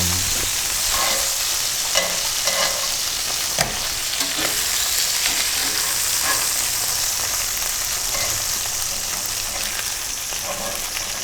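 Chicken pieces searing in a pan for an avocado cilantro chicken stew, giving a loud, continuous crackling sizzle with occasional sharper pops and brief clicks of a utensil.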